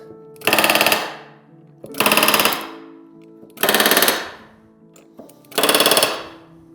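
A rivet gun drives rivets into RV-10 aircraft ailerons in four loud, close bursts of rapid hammering, each lasting about half a second and separated by short quiet gaps, with no talking.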